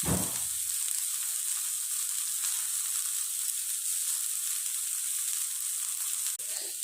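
Okra with peanuts frying in a pan for a Tamil-style poriyal makes a continuous bright sizzle, close and even, with a brief stirring clatter at the start and a small knock near the end.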